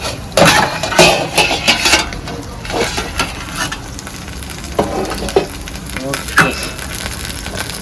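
Uthappam cooking on a low flame, a steady soft sizzle broken by several clattering pan and utensil knocks, with a brief spoken word partway through.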